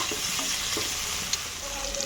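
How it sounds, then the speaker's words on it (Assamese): Chopped tomatoes and onions with green chilli frying in hot oil make a steady, dense sizzle up close, with faint stirring scrapes and no voices. "বিলাহীখিনি ভালকৈ 5 মিনিট সময় ভাজি ল'ম"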